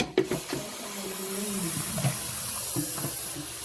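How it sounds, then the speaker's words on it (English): Water pouring and splashing into a pan with a steady hissing wash, plus a few knocks of cookware. "so I'm just putting cold water to it."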